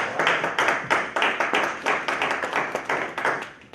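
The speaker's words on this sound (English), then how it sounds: "let's give our mayor a round of applause" A round of applause from the audience at a community forum honouring the mayor, a steady pattering of many hands clapping in short bursts for nearly four seconds, fairly close, with no talking over it.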